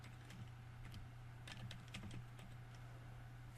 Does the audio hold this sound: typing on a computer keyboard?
yes